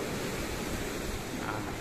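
Ocean surf near the shore at a fishing boat landing on an Indonesian coast, a steady, moderately faint wash of breaking waves with wind, and no speech.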